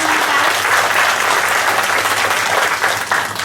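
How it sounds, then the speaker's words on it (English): Sustained audience applause fills a parent orientation session for school classes, dense and steady clapping from many hands at close range, holding at a loud level throughout with no speech over it. "I would like to applaud all of you first for being here on time"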